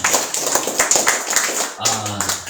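A church congregation at a Sunday service claps together in a quick, irregular burst, then a voice and murmuring take over near the end.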